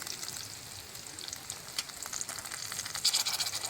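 Raw green mango with salt, turmeric and chilli powder sizzles steadily in a hot oiled pan for a sour snakehead fish curry, a continuous bright crackle with a few louder pops near the end, no voices.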